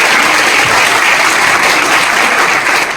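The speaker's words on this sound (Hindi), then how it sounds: "शानदार ताली बजा लीजिए अपने लिए" A crowd applauds loudly and steadily at a live RCM DTW program event in Ludhiana. The dense clapping stays even and full throughout.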